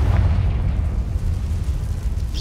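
A deep, booming fiery blast from a Confringo spell in the Hogwarts Legacy video game rumbles low and heavy, then fades into a sustained roar with no voices.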